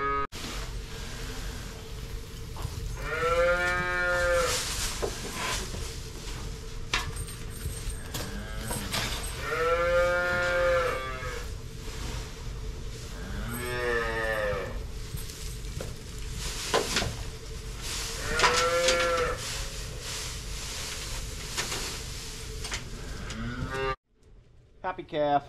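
Calves in a straw-bedded barn moo repeatedly, several drawn-out calls spaced through steady background noise at moderate distance.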